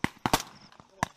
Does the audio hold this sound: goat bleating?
no